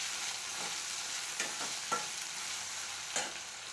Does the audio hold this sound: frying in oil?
yes